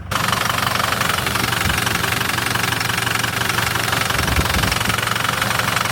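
A Ford PowerStroke diesel runs rough with a steady, heavy knocking idle throughout, labouring and failing to rev up cleanly, loud and close with no talk.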